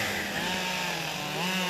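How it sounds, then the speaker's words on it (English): A chainsaw whines steadily at high speed, its buzzing engine cross-cutting English willow logs into short lengths, continuous and fairly close. "cross-cutting the logs into 28-inch pieces with a chainsaw"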